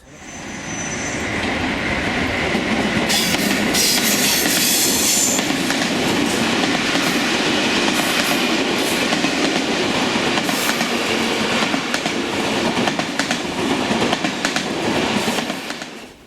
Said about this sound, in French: un fret traverse la gare sur la voie 2, certainement à la vitesse maximale autorisée